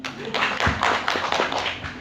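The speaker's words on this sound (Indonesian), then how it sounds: "Tepuk tangan yang lebih keras buat Anda semuanya." Seminar audience clapping together, a dense steady wash of applause close and loud throughout the short stretch.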